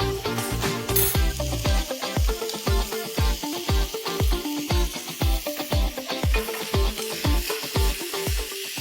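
Green onion, onion and tomato sauté with a pinch of salt in a hot pan, a loud sizzle broken by a steady, regular rhythm of stirring strokes, close and alone.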